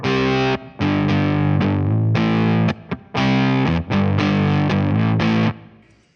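Heavily gated, lo-fi distorted guitar chords from a BOSS MS-3 drive effect that cut off abruptly between bursts, loud and close, with a brief stutter before the last phrase fades.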